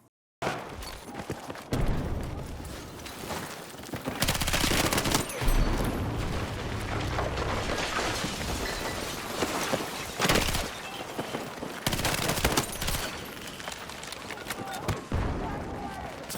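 Bursts of MP7 submachine gun fire in Battlefield 6 crackle in repeated rapid volleys, separated by short lulls, with dense in-game combat noise throughout.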